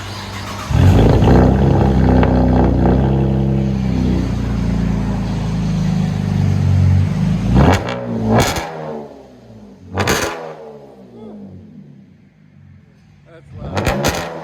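A 2010 Cadillac CTS 3.0L V6 with straight-piped exhaust, rear mufflers deleted and 4-inch double-wall stainless tips, idles with a loud low rumble, then gives several sharp revs, with people talking alongside.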